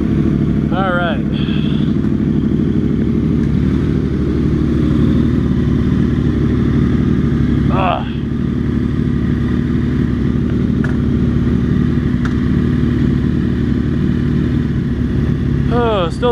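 Steady motorcycle engine drone while riding, loud and continuous for the whole stretch, with wind noise and a few brief chirps on top; a voice is heard over the engine.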